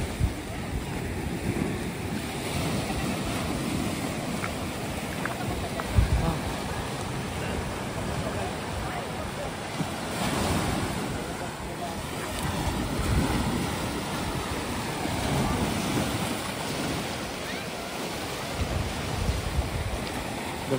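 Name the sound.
ocean waves washing into a sandy cove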